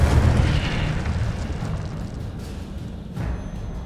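An Incendio fire spell is cast in Hogwarts Legacy, a loud rushing roar of flame that swells and fades over a few seconds, with a second burst near the end.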